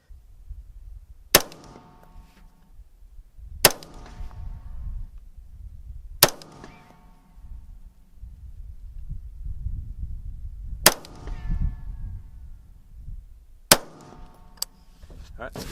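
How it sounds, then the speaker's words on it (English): A 16-inch AR-15 rifle fires five separate shots at an outdoor range, each a sharp loud crack with a ringing tail, spaced several seconds apart over low background rumble. "So I'm going to shoot one more group over here with the 16-inch"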